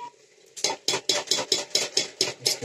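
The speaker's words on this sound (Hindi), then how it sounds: "इसको हम मसाले को भूनने के लिए कम से कम 10-15 मिनट इसको भूनेंगे" Masala being roasted and stirred in a pan for chicken curry, about nine rhythmic scraping strokes in quick succession over a soft sizzle, close and loud with no speech.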